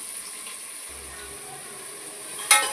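Three onions go into hot oil for a biryani, giving a quiet, steady, hissing sizzle with a brief clatter near the end.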